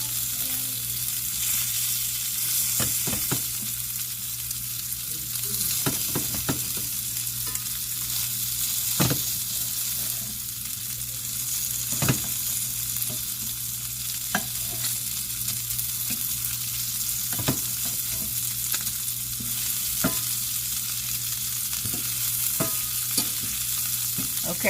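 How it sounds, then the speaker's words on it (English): Sausage sizzling and frying in a skillet while being cut up, a steady bright crackle of hot fat with repeated sharp scrapes and taps of a utensil against the pan, close and continuous with no talking. "I'm cutting them up in the skillet because I wanted mine to cook a little more"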